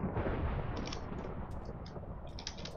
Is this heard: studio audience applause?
no